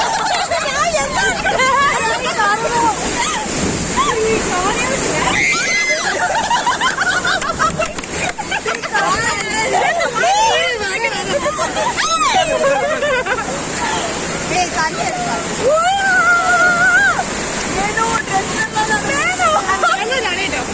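Water splashes and rushing spray on an amusement park water ride in Queensland, mixed with loud crowd babble and excited shouting from riders throughout.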